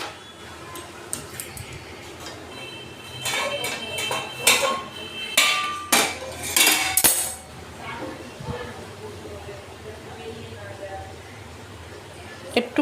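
A metal pan lid is lifted and handled while chhena poda bakes in a cake tin, giving several clanking, clinking knocks clustered in the middle, with a voice talking over the quieter stretches.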